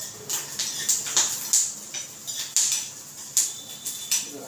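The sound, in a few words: garlic crackling as it roasts in oil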